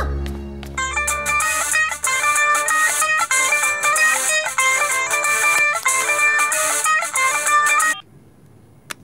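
A mobile phone ringtone plays a repeating melodic ring pattern, clear and steady for about eight seconds before cutting off into quiet room tone.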